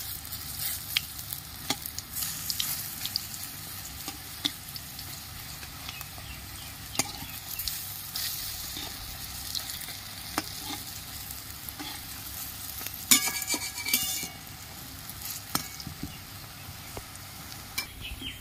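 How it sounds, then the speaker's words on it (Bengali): Lentil fritters frying in a pan and being turned over, a continuous soft sizzle with scattered light taps and scrapes of a utensil, no voices. "বড়াগুলো আমি সব উল্টে নিচ্ছি। এক পিঠ ভাজা হয়ে গেছে বন্ধুরা।"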